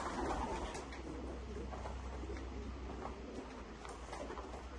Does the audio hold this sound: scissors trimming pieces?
no